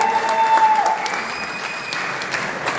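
An audience at a business convention in Goa applauds with a loud, dense burst of clapping that carries steadily through, with a brief voice audible at the very start.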